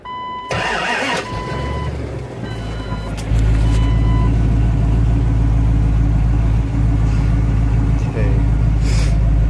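A Jeep TJ with a 5.2 Magnum V8 and Flowmaster HP2 shorty exhaust cranks and fires up, settling into a loud, steady deep idle rumble that runs alone to the end after a brief spoken moment at the start.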